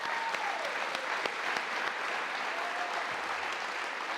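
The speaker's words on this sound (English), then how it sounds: "But let's give Krek one more round of applause for that." A roomful of people applauding a retiring official at his retirement program, steady dense clapping throughout with no speech over it.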